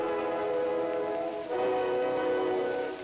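An old low-fidelity recording plays alone as a demonstration, a thin, narrow-band sustained musical tone with a shift midway, sounding muffled and limited.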